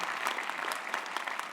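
Conference audience applauding, a dense steady wash of many hands clapping at close range, with no voices over it.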